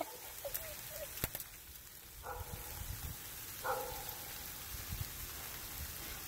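Steady heavy rain patters on a surface throughout, with a few sharp knocks of falling ice; brief faint voice-like tones appear midway.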